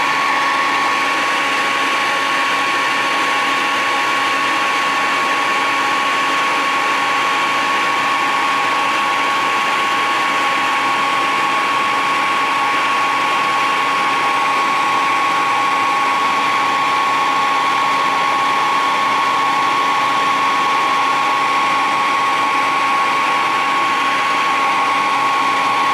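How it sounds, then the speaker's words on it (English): A hair dryer heating a 1/4-scale Hellboy figure part runs continuously at full power, a loud steady whirring blow with a constant high whine and no pauses. "So I'm going to heat up that hair dryer."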